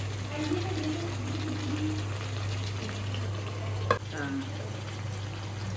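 Chopped tomatoes frying in a pan and being stirred, a soft steady sizzle with a low constant hum beneath it and one sharp clatter of the utensil near the end, with no talking.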